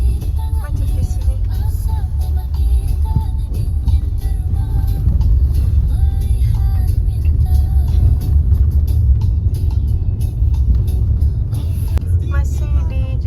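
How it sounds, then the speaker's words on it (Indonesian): Busy traffic on the Muara Enim–Prabumulih highway in Indonesia, with cars and large trucks passing, a steady loud low engine rumble and road roar filling the whole stretch without letup. "Jadi lalu lintasnya ramai dan banyak truk-truk gede begini ya."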